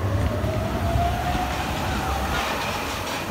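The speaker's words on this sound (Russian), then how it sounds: "Сейчас мы на гнилом поезде поедем." Old, rickety amusement park train ride in a rundown fairground, its rumbling wheels and rattling cars running steadily up close with a faint squeal above the drone.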